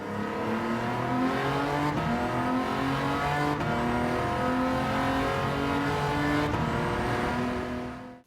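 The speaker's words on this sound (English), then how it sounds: "the low-revving V6 engine noise makes me want to give up on life" A Maserati Merak V6 engine in the Gran Turismo 7 video game, a steady, low-revving drone with a constant layered hum that holds for about eight seconds before cutting off.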